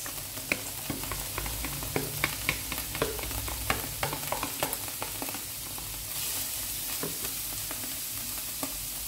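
Grated carrots frying in a pan for spaghetti sauce, a loud continuous close sizzle with frequent sharp stirring clicks and scrapes of a utensil, no talking.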